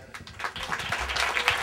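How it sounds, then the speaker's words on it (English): A comedy audience claps as the next comedian is brought to the stage, a short burst of applause that swells from a few hands into fuller clapping. "Come on, give him a round of applause."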